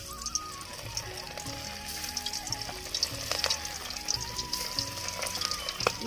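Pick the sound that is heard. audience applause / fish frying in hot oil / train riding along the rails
fish frying in hot oil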